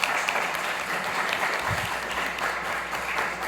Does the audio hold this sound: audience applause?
yes